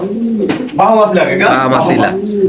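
Racer pigeons at a pigeon farm give soft, rolling coos close by, several throaty calls overlapping in a short burst, with a person talking alongside.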